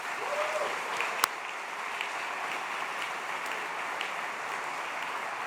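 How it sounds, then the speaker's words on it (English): Graduation audience at an MBA ceremony in Singapore applauding in a steady, moderately distant wash of clapping that holds evenly throughout, with one sharp click standing out briefly. "Please help me give them a round of applause too."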